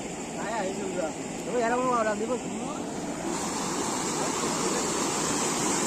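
A river flows fast after the first monsoon rains at a fishing spot, keeping up a loud, continuous rush of water. Someone talks over it near the start.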